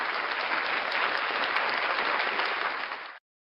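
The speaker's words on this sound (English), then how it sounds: "Round of applause for Unclean Hands." Loud, dense crowd applause for a performer on a live show rolls steadily for about three seconds, then cuts off abruptly into silence.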